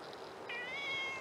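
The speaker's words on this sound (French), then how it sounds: "je l'entends encore miauler à la porte du camping-car" A cat meows insistently at the door of a camper van, a clear, fairly close cry rising into a sustained wavering call after a brief softer start, with no talk over it.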